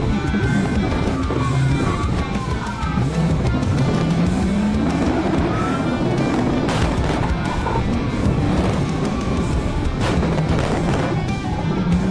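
A fleeing car slams into a pole after a police PIT maneuver, heard as loud, continuous roaring engine and road noise with crunching impact sounds and scattered bangs across a long, busy stretch.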